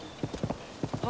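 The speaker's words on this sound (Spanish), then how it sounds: "Es un caballo gigantesco." A giant horse's hooves clip-clop in Zelda Tears of the Kingdom, two quick bursts of rapid hollow hoofbeats at close range, with a voice talking faintly beneath.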